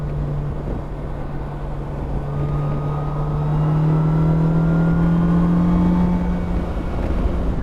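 Polaris Slingshot R three-wheeler with a worn rear tire, its engine revving after a downshift in slingshot mode: a loud, steady engine drone that climbs in pitch midway, holds high, then eases off, with no talking.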